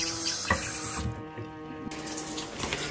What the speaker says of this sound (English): I have it here in the shower getting dripped on